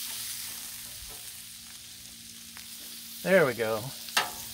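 Shrimp scampi in butter on a Blackstone griddle, a quiet steady sizzle with occasional scrapes of stirring, joined briefly by a short spoken phrase near the end.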